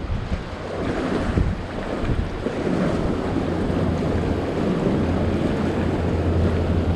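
Steady wind buffets seaside rocks during a fishing outing, a continuous close roar with low rumbling gusts mixed with surf wash, loud and unbroken, with no speech.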